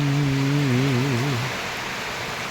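Steady rain falls all day in an unbroken, even hiss, while a wavering sustained voice-like tone rises over it for the first half and then fades, leaving only the rain.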